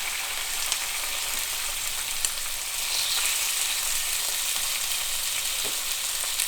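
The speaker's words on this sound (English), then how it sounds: "I'm just gonna put these slices of liver in there to fry." Slices of liver fry in hot beef tallow over medium heat, making a continuous, even sizzle with occasional sharp pops and spits, close and fairly loud, without talking.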